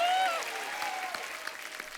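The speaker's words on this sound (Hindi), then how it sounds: "आप सबकी जोरदार तालियों के बीच" A studio audience bursts into loud, dense applause on the set of a comedy talk show, a steady wash of clapping across the whole moment with a brief musical tone at the start.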